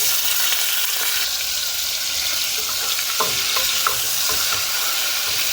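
Garlic frying in hot oil for a puti fish curry gives a steady, close sizzle throughout, with scattered clicks and scrapes of stirring in the pan and no talking.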